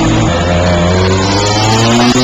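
A go-kart engine drones loud and close at speed, its buzzing tone held steady and climbing slightly in pitch across the stretch.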